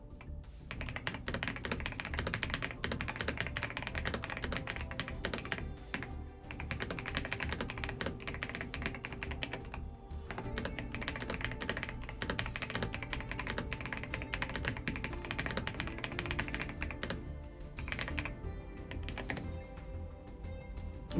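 Rapid, continuous typing on a new computer keyboard, dense clicking keystrokes going on without pause and with no talking.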